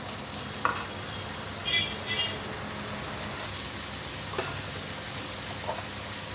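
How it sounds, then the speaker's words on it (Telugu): Ginger garlic paste fries in oil with a steady close sizzle like light rain, broken by a few stirring clinks and scrapes, with no talking. "వేగితేనే ఆయిల్లో అల్లం వెల్లుల్లి పేస్ట్ ఈ ఆయిల్లో మగ్గింది అనుకోండి, టేస్ట్ బాగుంటుంది."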